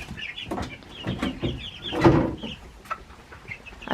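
A flock of laying hens on a Maine homestead clucks and squawks in overlapping bursts, close by, with no talking.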